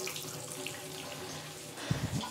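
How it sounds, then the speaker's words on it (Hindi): Water runs from the tap of an instant electric water heater in a steady, close hiss, with a few low gurgling splashes toward the end and no talking. "पानी का फ्लो चेक कर लेते हैं"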